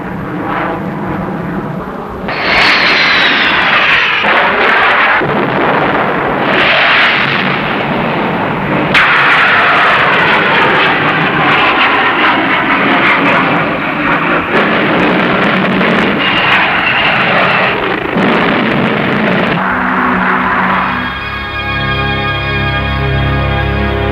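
A fighter aircraft engine roars loudly and continuously in a combat setting, with booming blasts mixed in throughout and a tonal hum taking over near the end.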